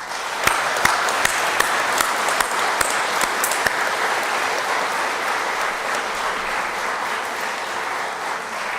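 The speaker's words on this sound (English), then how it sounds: "they deserve a big clap in your hands" Sustained applause from a large crowd at a veterinary medicine graduation ceremony, dense and even for several seconds, with a few sharp claps standing out early on.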